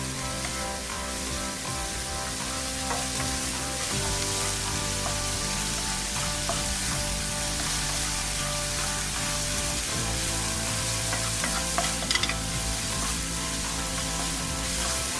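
Chilli cauliflower being stir-fried in Desi Chinese style over a high flame, a loud continuous hiss and sizzle with occasional stirring scrapes, close and without talk.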